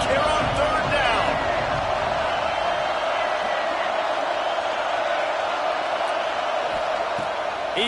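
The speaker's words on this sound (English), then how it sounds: "This Auburn crowd trying to conjure up a little magic here on third down." A stadium crowd at Auburn in the College Football 26 video game roars in a steady, dense wash, loud and continuous throughout with no break, with a few sharper thumps early on.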